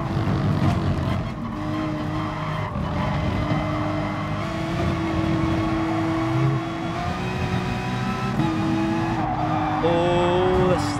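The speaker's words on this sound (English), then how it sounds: "The Porsche isn't very fast." Porsche race car in GT Sport under hard acceleration, engine whining continuously with shifting pitch through gear changes, tires squealing lightly in corners, loud and close throughout with other cars nearby.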